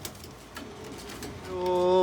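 Domestic pigeons on a rooftop loft, one bird giving a rising, tonal coo that grows louder toward the end, with faint rustling and soft background voices before it.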